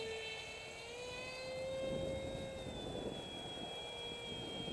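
Electric RC F-18 jet with a 7x4 propeller flying overhead in wind: a faint, steady high motor whine whose pitch drifts slowly as the plane passes at altitude, under broad wind rumble.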